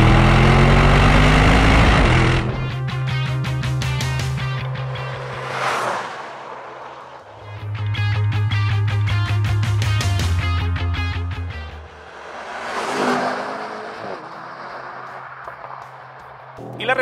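A 2023 Mercedes-AMG SL 63 engine revving hard in sporty modes, loud surging roars climbing in repeated waves with gear-change dips between them, close and alone without speech.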